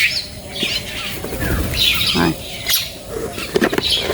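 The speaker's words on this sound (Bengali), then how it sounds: "দেখুন সবাই একে একে আসবে, অনেক খাবার দিই। কত ধরনের পাখি, কাঠবিড়ালি সবাই আসে" Several birds chirp and tweet near a home feeding spot in early morning, with scattered short calls and occasional wing flutters over a steady background, no talking.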